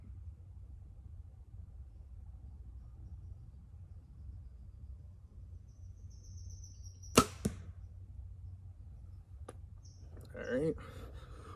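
A single arrow loosed from a 70-pound bow gives a sharp snap, followed by a second crack and a brief thump against a steady low outdoor rumble, and faint movement comes near the end.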